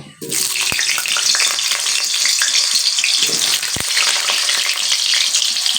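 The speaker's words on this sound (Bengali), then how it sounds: "তো সেজন্য কিন্তু আগে আমি আলুটাকে ভেজে নেব।" Potatoes dropped into hot oil, bursting into a loud, steady sizzle right after a short scrape and clatter, with light stirring noises underneath.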